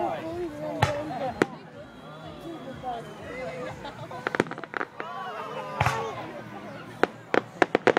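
Fireworks bursting in a series of sharp cracks and bangs, with a dense cluster near the end, as people cheer and talk excitedly throughout.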